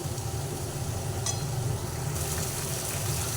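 Shrimp and taro greens sizzle steadily in a pan while being stirred, a continuous close frying hiss with no speech.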